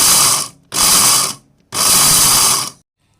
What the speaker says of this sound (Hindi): ये देखें मैं वो पीस रही हूँ ज़ीरा और काली मिर्च।